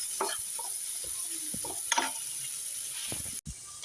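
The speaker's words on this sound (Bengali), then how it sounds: "দেওয়ার পরে আমি দু তিন মিনিট নেড়ে চেড়ে পেঁয়াজটা বাজার" Chopped onions fry in a pan and are stirred for a cabbage dish, giving a steady close sizzle under intermittent scraping and clattering of the spoon, with one brief knock near the end.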